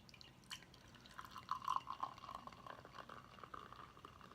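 Saison beer poured into a glass, a faint, close trickle with fizzing and bubbling that swells in the middle and then settles into soft crackling foam.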